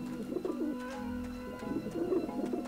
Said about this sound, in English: there's loads of pigeons over there